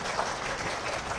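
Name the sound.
audience applause welcoming a seminar speaker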